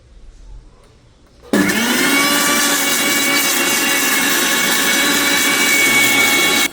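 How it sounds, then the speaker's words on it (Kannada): A kitchen mixer grinder blends ginger garlic paste: near silence first, then the motor cuts in abruptly with a loud, constant high whir that runs to the end. "ಶುಂಠಿ ಬೆಳ್ಳುಳ್ಳಿ ಪೇಸ್ಟ್ ಸಿಕ್ಕಿದೆ, ಸ್ವಲ್ಪ ರುಬ್ಬಿದ್ದೀನಿ, ಆದರೆ ಇನ್ನೊಂದು ಸತಿ ರುಬ್ಬೋಣ ಗೈಸ್."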